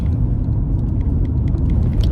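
Inside a car on a rough road, a steady low rumble and road noise fill the cabin, with faint rattles and knocks over the top and no voices.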